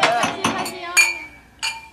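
Glasses clink together in a toast at a lively restaurant dinner table, with a few bright, ringing chinks spaced across the moment and a voice nearby.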